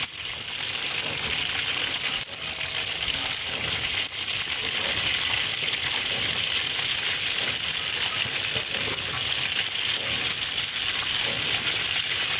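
Vegetables stir-frying in a hot pan with mushroom broth seasoning, a steady loud sizzle filling the whole stretch with faint stirring scrapes and no talk.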